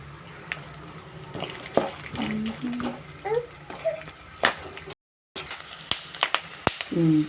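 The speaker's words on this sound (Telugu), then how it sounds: "పల్లీలు చిటిపెట్టి అంటున్నాయి ఫ్రై అవుతున్నాయి" Peanuts fry in hot oil for a Telugu okra and peanut stir-fry, giving scattered sharp crackles and pops over a soft sizzle while a person talks nearby.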